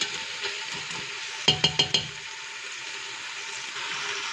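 Spiced meat for Persian yellow split pea stew fries in a pot with a low, steady sizzle, broken midway by four quick knocks of a spoon against the rim.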